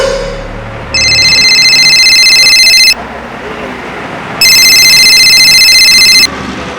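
An incoming call sets a telephone ringing in two long electronic bursts, each roughly two seconds, with a pause between, loud and close, the tone bright and steady.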